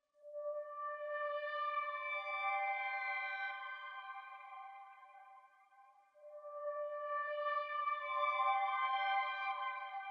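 Arturia Analog Lab's Distractions preset plays two soft, glassy synth accent phrases separated by a short gap, each a sustained cluster of clean bell-like tones, quiet and alone.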